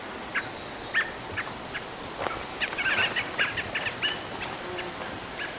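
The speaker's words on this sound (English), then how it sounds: "There's some more of our little bird friends, robin." A robin sings in a backyard homestead garden in June, giving scattered bright chirps and short trills over a soft outdoor background, clustering busier in the middle.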